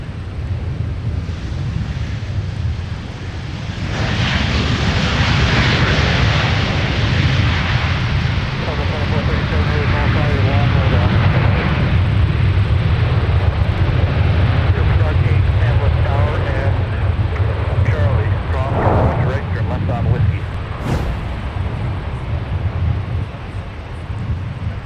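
A Delta jet airliner takes off from Minneapolis–Saint Paul airport, a loud, sustained roar building and holding over a long stretch with wind buffeting, while radio chatter runs underneath.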